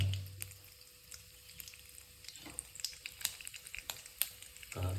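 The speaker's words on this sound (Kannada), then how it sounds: "ಸಾಸಿವೆ ಚೀಟ ಚೀಟ ಅನ್ನೋರ್ಗು ಸ್ವಲ್ಪ ಕಾಯೋಣ" Mustard seeds spluttering in hot oil make scattered crackles and small pops that stay fairly faint, with a short low rumble at the start and again at the end.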